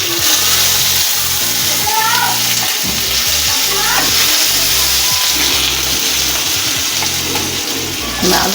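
Potatoes dropped into hot oil seasoned with nigella seeds sizzle and fry steadily, with clattering stirs and scrapes of a utensil in the pan repeating throughout; close, moderately loud kitchen sound.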